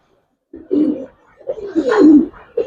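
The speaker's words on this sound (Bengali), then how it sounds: "অনেক পুরান জাতের একটা নর কবুতর" A male pigeon of an old breed coos in two or three throaty, rolling phrases close by, separated by short pauses, against an otherwise quiet background.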